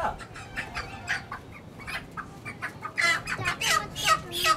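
Chickens cluck and squawk continuously with a busy, noisy background, rising louder toward the end; no clear speech.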